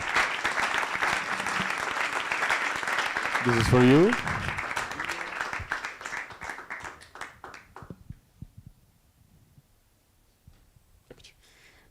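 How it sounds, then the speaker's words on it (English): Audience at an open source tech conference giving a round of applause, dense clapping that thins into scattered claps and fades out; a voice speaks briefly over it. "Another big round of applause"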